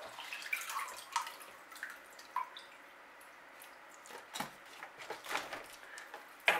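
Soft, scattered drips of water fall from an orchid into a water bath, quiet and irregular, with a few sharper plinks against a low, still background.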